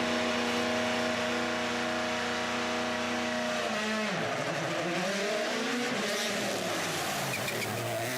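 A rally car at the WRC Rallye Monte-Carlo shakedown drones at high revs, then the engine note drops sharply and climbs again through gear changes as the car passes, loud and unbroken.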